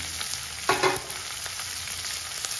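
Cumin, curry leaves and green chillies crackle in hot oil, a bright, close sizzle that bursts louder for a moment when the chillies go in, then settles into a steady fizz with light stirring.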